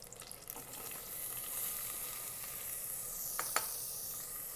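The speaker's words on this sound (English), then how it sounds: "Let's fry this in the butter" Onion frying in butter with a little oil, bay leaves and fennel seeds in an Instant Pot gives a soft, steady, faint hiss with a few brief louder crackles.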